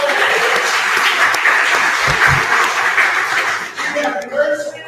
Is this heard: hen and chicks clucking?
no